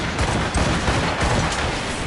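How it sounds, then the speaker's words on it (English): Ship cannons firing in a naval battle in Assassin's Creed Rogue Remastered, a dense run of booming blasts that overlap one another, loud and continuous with no speech. "Cannon ready!"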